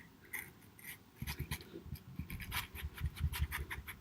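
A sharp paring knife scores lines into a watermelon's rind, giving a run of close scratchy scraping strokes with a steady rasping rhythm, up close and fairly quiet.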